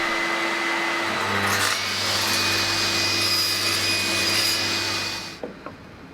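A table saw trims a tiny sliver off a piece of wood set against a stop. The motor whines steadily, a brief cut rasps through, and the blade then spins down and goes quiet near the end.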